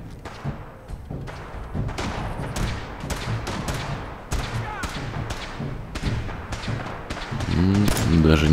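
Repeated sharp gunshot bangs and thuds pop at irregular intervals amid a busy, noisy Fallout 4 game soundscape, with some faint talking.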